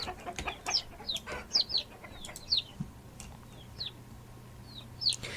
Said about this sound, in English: the problem with the chickens not being afraid of me is that I can't make them move